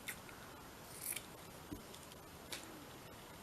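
Scissors snip through a scrap of lace while sewing, a few short crisp cuts spaced out against a quiet background.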